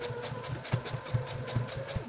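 A sewing machine stitches a cotton face mask, its needle thumping in a quick, steady rhythm close by with a low motor hum underneath and no talking.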